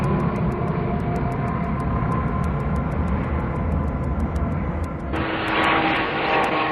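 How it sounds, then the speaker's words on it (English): Propeller-driven aircraft of the tiltrotor kind built for vertical takeoff, a loud continuous engine drone and propeller roar with a steady hum, the sound brightening and rising in hiss near the end as it passes close. "an aircraft like this? With propellers producing lift for vertical takeoff, then turned through 90 degrees to provide thrust for conventional flight"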